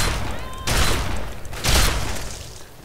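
Minigun fire in Fallout 3 comes in two loud, roaring bursts about a second apart, each a dense, harsh rattle sitting over a steady background of game noise.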